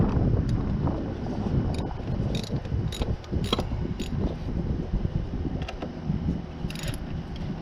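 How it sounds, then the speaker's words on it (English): A ratchet or wrench loosens the terminal cables on a car battery, giving irregular close clicks and metallic taps over a breezy outdoor rumble, with no speech. "You're going to take your ratchet or your wrench and you're going to remove the cables."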